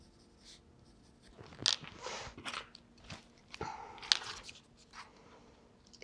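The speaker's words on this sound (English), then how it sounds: "Take some thin card, fold it in half, and sketch out your basic rocket shape." Pencil sketching a rocket outline on thin folded card: soft, close scratchy strokes in short irregular bursts, quiet and alone.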